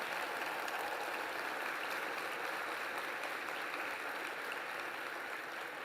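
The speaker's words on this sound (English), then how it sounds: "We applaud Vernon Jordan so he can hear us in the heavens." Sustained applause from a large audience at an Urban League opening plenary honoring Vernon Jordan, a steady even wash of clapping heard from some distance without a break.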